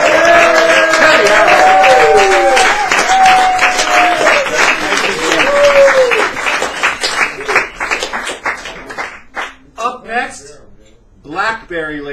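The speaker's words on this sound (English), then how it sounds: "I'd like to give him a big round of applause." Audience applause at an open mic night in a San Francisco cafe, a crowd clapping in a dense burst that thins out into scattered claps, with someone talking loudly over it the whole time.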